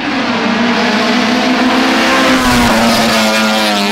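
Nissan 350Z engine revving loudly nearby, a sustained high-pitched wail holding steady then slightly dipping, with a brief low thump partway through and no voices.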